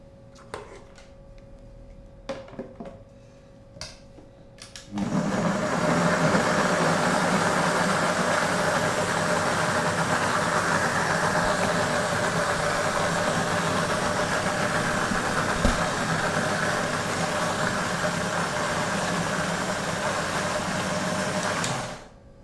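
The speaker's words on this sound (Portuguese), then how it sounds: "E nós vamos bater tudo isso no liquidificador." A blender whirs steadily as it beats butter and brown sugar for a bakery-style pudding, starting abruptly after a few faint clicks and running loud and even for about seventeen seconds before cutting off.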